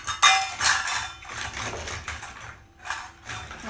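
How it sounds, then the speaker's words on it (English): A big spoon scraping and clinking against a metal strainer as cooked potato is pressed through it, uneven bursts of rasping strokes and light metallic taps close by. "you just want to put the potato into the strainer and just run it through."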